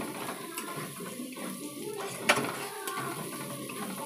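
Onions fry in a pan with a steady, faint sizzle and hiss. Occasional clinks and stirring scrapes sound against the cookware as prawns and eggs are prepared.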